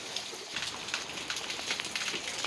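Steady rain pours down outdoors over a backyard with a tank catching rainwater, a dense, even patter of drops spattering on hard surfaces close by, continuous and fairly loud with no talking.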